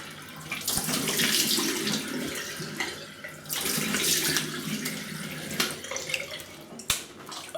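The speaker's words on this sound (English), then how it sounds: "Let me have a little rinse." A bathroom tap runs steadily while a razor is rinsed under it, with the splashing rising and falling as the blade moves through the stream. A couple of sharp taps are heard against the sink, and no one speaks.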